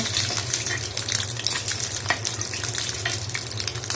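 Eggs frying in oil in a pan for an egg and lentil dish, a steady close sizzle and crackle with faint watery bubbling throughout, no talking.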